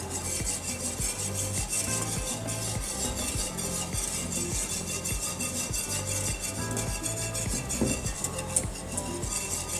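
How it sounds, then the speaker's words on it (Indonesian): A natural dye mixture is stirred in a cooking pot during dye extraction, giving steady rhythmic scraping and clinking of the utensil against the pot throughout, close up and continuous, with no talk. "Selama memasak maka kita perlu mengaduk adonan supaya tidak terjadi kerak di bagian bawah."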